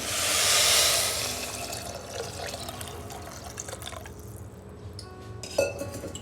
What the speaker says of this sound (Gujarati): હવે આપણે આ જે ધાન છે ડૂબે એટલું પાણી એડ કરીશું